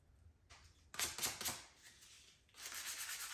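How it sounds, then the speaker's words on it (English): Sandpaper rubbing over a wooden bushcraft drill case in short strokes, with two longer bursts of close, dry scratchy friction separated by a brief pause. "I'm gonna go ahead and grab some sandpaper and sand it down a little"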